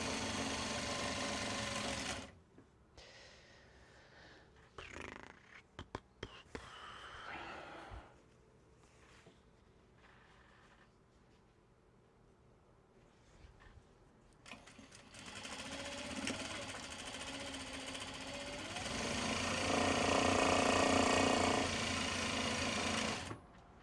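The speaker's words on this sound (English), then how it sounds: "My God, it's actual sewing." A sewing machine stitches Japanese fabric bags in loud motor bursts, first a sustained run, then quieter intermittent stitching and handling, ending with long steady runs; a voice speaks briefly.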